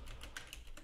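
Rapid typing on a computer keyboard, with a run of close, crisp key clicks at an uneven pace and no voices.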